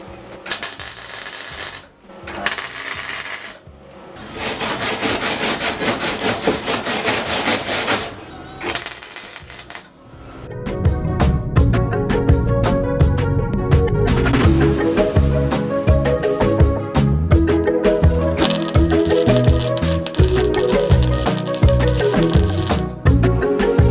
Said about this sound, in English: I'm just going to start tacking this around the edge.